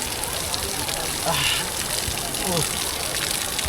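Water streams down the mountainside at Sahastradhara in Uttarakhand in a steady, close, rushing gush that stays loud throughout, with faint voices in the background.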